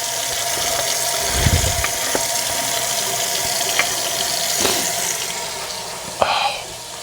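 A kitchen tap runs water into a colander, a steady rushing hiss with a few clanks and a thump along the way.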